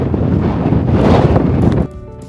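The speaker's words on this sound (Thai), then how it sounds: "ได้ยินเสียงลมกันใช่ไหมคะแล้ว ลมแรงมากๆ" Strong wind roars across the microphone outdoors in Lofoten, Norway, a loud, blustery rush that cuts off abruptly near the end.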